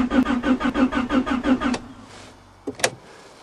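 A 1991 Honda Accord's engine cranking on a winter cold start after sitting for months: a steady rhythmic starter churn of about eight pulses, then it stops, followed by a short mechanical clunk, close and loud.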